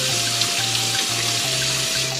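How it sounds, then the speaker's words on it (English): Hot water runs steadily from a faucet in a cabin, a continuous close hiss of flowing water with a low hum beneath it and no talking. "now Robert has plumbed hot water into the cabin"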